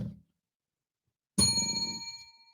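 A single bright bell ding rings out clearly after a brief silence, its metallic tone sustaining and slowly fading, with a short low thump just before.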